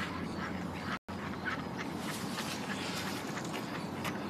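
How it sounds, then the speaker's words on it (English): A duck quacks faintly several times in a TV drama scene, with short raspy bursts spaced irregularly over a steady hiss of outdoor background noise and no voices. "Stupid duck, over here."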